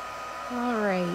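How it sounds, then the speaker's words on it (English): A heat tool blows steadily to dry stamped ink on a papercraft box, a close, even airy rush with a motor whine that slides downward over about a second. "So you need to hit it with a heat tool or give it lots of time to dry."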